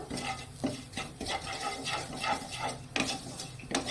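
A spoon stirs semolina with onion seeds in a pan while making carrot halwa, giving close, rhythmic scraping and scratching against the metal with a light background sizzle, alone and without talk.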